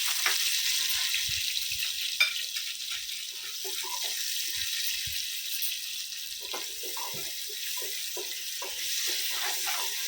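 Onions and salt frying in a pan for a Goan fish curry, giving a continuous hiss and sizzle with scattered crackles and small pops throughout.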